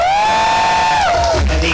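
An audience shouts and cheers at a comedy stage show: one loud, drawn-out whooping yell slides down in pitch as rougher crowd noise swells behind it.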